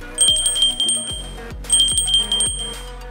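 A notification bell sound effect rings twice in quick double bursts, bright metallic dings with falling tones underneath, loud and alone.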